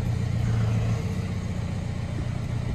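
A car with its engine dogbone insert removed is driven inside a garage, giving a low, steady engine rumble that stays close and moderately loud, with no voices.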